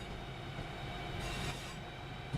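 A train running in a train driving video game, giving a steady low rumble and rolling wheel noise with faint metallic rattles, quiet and continuous throughout.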